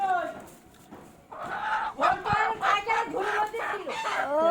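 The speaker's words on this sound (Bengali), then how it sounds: "দেখ মোরগ" A Patnai rooster clucks and calls in a series of close, rhythmic bursts after a quieter start, while people talk nearby.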